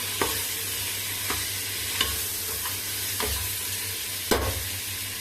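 Gentle sizzling of chickpeas frying in a pot, with a few soft scraping stirs at irregular intervals, close and fairly quiet.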